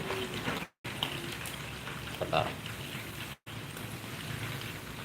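Chicken fries in hot oil, a dense, steady crackle and hiss like heavy rain that continues evenly throughout.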